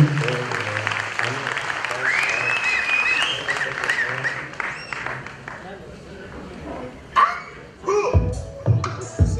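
An audience at a Malayalam community event applauds throughout while children's voices and chatter mingle with the clapping, ending in a few louder, sharper bursts.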